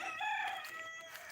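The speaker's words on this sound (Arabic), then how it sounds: "اسمعوا صوت الديك." A rooster crows at a home courtyard, its drawn-out cock-a-doodle-doo call standing out clearly and fairly near, with no talking over it.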